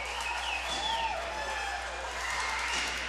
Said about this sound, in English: that draws a cheer from the crowd